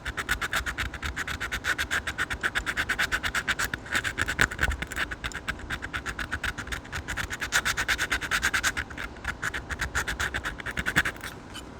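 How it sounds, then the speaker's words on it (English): Knife handle scales being hand sanded in a crosshatch pattern give off rapid, even scratching strokes, close and steady throughout, with no talking. "So you sand the whole thing, then come in and sand near the border"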